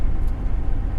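A 2005 Lincoln cruises along, its engine and road rumble forming a steady, loud low drone heard from inside the car, with no voices.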